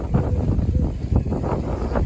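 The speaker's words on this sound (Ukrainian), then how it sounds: "Вітер дуже сильний" Strong wind buffets the microphone in rough, uneven gusts, a loud low roar that rises and falls throughout.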